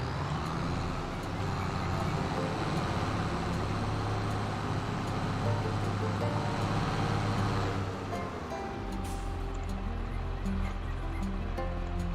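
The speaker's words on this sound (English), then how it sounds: "So we'll get the new tractor hooked up." In Farming Simulator 22, a tractor engine drones steadily with a low rumble that holds at one loud level, then shifts to a slightly different pitch near the end.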